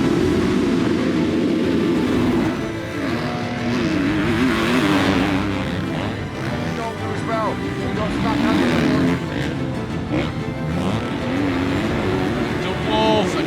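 MX2 motocross motorcycles race in an Open class race, a loud pack of engines revving and whining through turns with a commentator talking excitedly over them.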